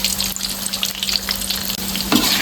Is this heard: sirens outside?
no